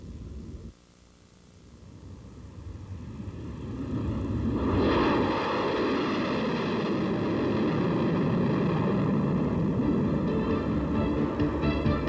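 A B-1B bomber flying at low altitude, its jet roar swelling from a faint hum to a loud, steady rushing drone that holds to the end.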